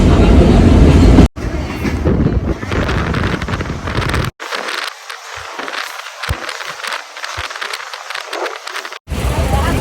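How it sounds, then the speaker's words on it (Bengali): A local train running on rails, loud rumbling wagon noise with rhythmic clickety-clack and heavy wind buffeting across the microphone, close and continuous. "আর এই লোকাল ট্রেনটা"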